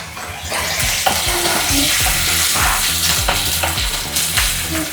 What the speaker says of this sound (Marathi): कढीपत्ता टाकून घेऊया। कांदा टाकून घेऊया।